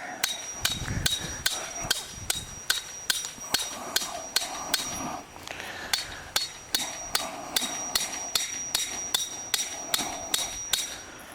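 Steady, regular hammer blows ring out one after another, sharp metallic strikes repeating at an even pace for several seconds, close and clear.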